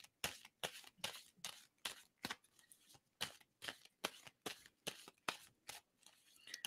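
Cards shuffled in a rapid run of about a dozen crisp riffling bursts, each a short papery rattle with brief gaps between, steady and close with no talk.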